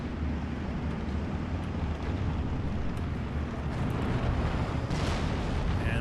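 Incoming 155 mm artillery fire in Steel Division 2, heard as a steady, dense, rumbling roar of distant barrage and explosions that fills the whole stretch, with no talk.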